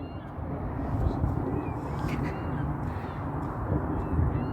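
Gulls on a river at a small beach area in a Calgary bird sanctuary give scattered harsh calls over a constant background rush, with the calls fairly distant and partly masked.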